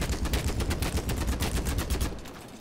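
Scar H battle rifle firing in BattleBit Remastered, a steady rapid string of loud, evenly spaced shots at a moderate fire rate for about two seconds before cutting off, with no talk over it.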